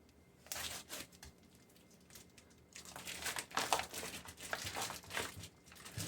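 Plastic packaging on a store-bought rack of baby back ribs being cut open and pulled away, with crinkling, tearing rustles that grow louder and busier after a quieter start, close by with no talk.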